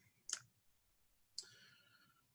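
Two sharp computer mouse clicks, spaced about a second apart, made while working in ZBrush 3D sculpting software; each click is crisp and close, set against near silence.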